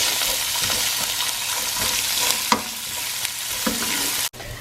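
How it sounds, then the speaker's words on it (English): Chopped onion seasoned with pepper, stirred and fried in a pan for a Kerala-style chicken curry: loud, close sizzling with rhythmic spatula scrapes and a few sharper knocks, cutting off abruptly at the end. "Now I am going to stir this around until it gets nice and translucent"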